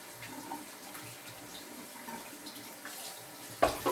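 A tap runs water to rinse straight razor sharpening stones, a steady, moderately quiet stream that keeps going throughout, with a louder splash of water near the very end.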